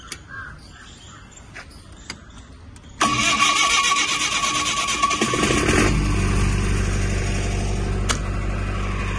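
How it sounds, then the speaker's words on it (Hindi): A Mahindra silent diesel generator set with a single self-start fires up, a few faint clicks first, then the engine catches abruptly and settles into a steady, deep running drone close by. "आइए मैं आपको इसे स्टार्ट करके भी दिखा देता हूँ। सिंगल सेल्फ स्टार्ट है सर ये इंजन।"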